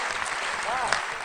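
Audience applause at a Hindi poetry recital, a sustained crowd clapping with a faint voice rising briefly over it.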